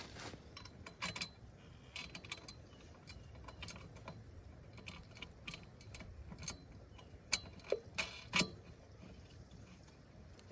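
Small metal parts clink and tap sporadically as bolts, washers and wing nuts are fastened onto the handle of a VEVOR 100-foot drain cleaner machine. The clicks are close and intermittent, with a few sharper jangles near the end and no talking.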